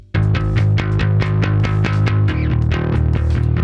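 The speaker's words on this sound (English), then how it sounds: "So I already have a fuzz bass guitar track." A fuzz-distorted bass guitar plays a driving line of steady, evenly repeated picked notes, loud, gritty and close, alone without talking.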